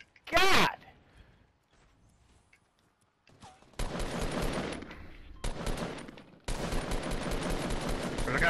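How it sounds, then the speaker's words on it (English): Bursts of gunfire in a Fortnite battle royale match, a sharp shot near the start and then sustained dense rapid firing in long stretches, loud and close, with players talking over it. "There's a couple dudes shooting."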